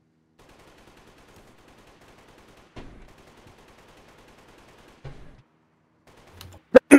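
Sharp gunshots in the video game DayZ crack out in a quick cluster near the end, with single reports earlier, over a quiet low background.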